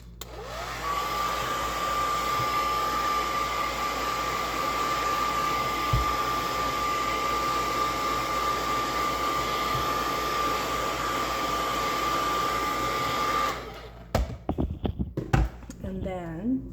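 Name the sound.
hair dryer blow drying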